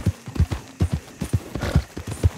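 A horse's hooves clip-clop at a steady, rhythmic trot in Red Dead Redemption 2, close and fairly loud, each footfall a heavy thud against a faint low hum.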